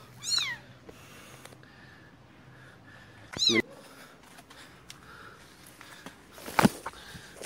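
A kitten gives three short, high meows spaced apart, close and clear over quiet background rustling outdoors behind a storage shed.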